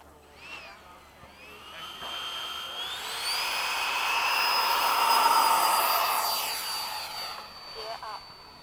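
A Freewing 90mm F/A-18 RC model jet takes off at an airfield, its ducted-fan whine swelling from faint to a loud rushing roar mid-clip and then fading as it climbs away, with a few quiet voices nearby.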